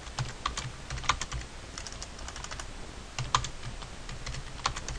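Typing on a computer keyboard, a steady run of fast, close key clicks with occasional louder taps, heard alone without talk.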